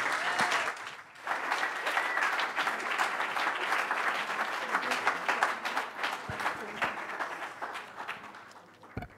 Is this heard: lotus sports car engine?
no